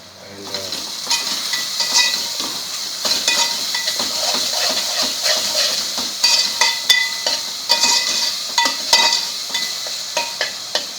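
Onions frying with turmeric and salt for a crab curry, a steady bright sizzle with repeated scraping stirs of a spoon in the pan, close and continuous, with faint speech underneath.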